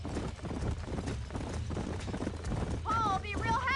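Horse hooves clip-clop through a Red Dead Redemption game scene, a steady rhythmic trot under dense background noise, with a brief whinny-like tonal sound near the end.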